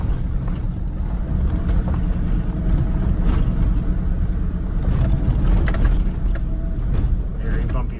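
A car drives over a bumpy gravel road, giving a loud continuous low rumble with crunching gravel, rattles and wind buffeting throughout.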